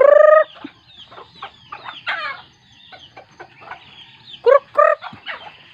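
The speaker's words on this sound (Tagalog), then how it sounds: "ako yung magpapatuka muna ng mga manok" Backyard chickens clucking and squawking excitedly while being fed in the morning, close by, with a few loud rooster-like calls at the start and near the end between busy overlapping clucks.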